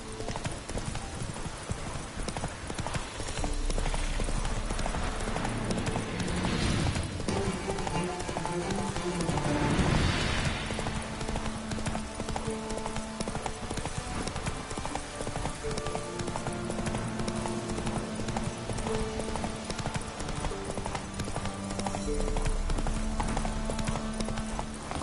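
Roach, the horse in The Witcher 3, gallops at a steady rhythmic clip-clop for the whole stretch, close and constant, with music and brief game dialogue layered over it.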